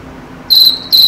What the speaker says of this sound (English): what kind of crickets again